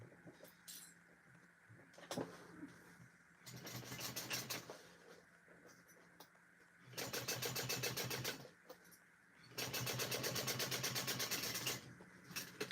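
A sewing machine stitching a seam on a vinyl tote, running in two sustained whirring, rapid-needle bursts separated by quieter pauses with small handling clicks, close up.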